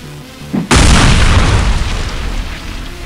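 A cartoon cherry bomb goes off in a single loud, sudden boom that roars and slowly decays into a rumbling tail, preceded by a brief faint pop.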